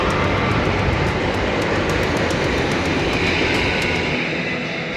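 A train rumbles past close by beside a riverside bike path in South Korea, with a loud continuous roar and a rapid rhythmic clatter of wheels over rail joints.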